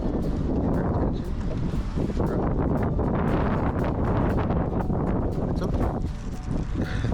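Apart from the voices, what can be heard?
wind blowing outdoors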